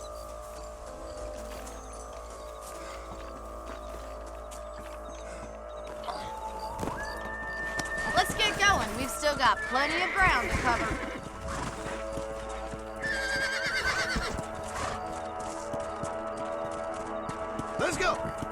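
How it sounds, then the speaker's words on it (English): Horses neigh and hooves clip-clop in Red Dead Redemption, with rising whinnies in the middle and later stretch over a steady trot, while someone speaks briefly near the start. "Let's get back on the horses and see what else is going on."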